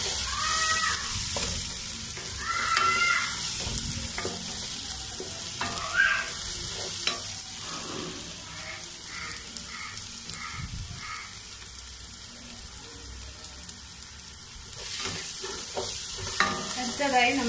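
Crushed green chillies being sautéed in a pan for Kozhikoden beef biriyani: a steady oil sizzle runs throughout, broken by frequent close scraping and clinking strokes of a stirring spoon.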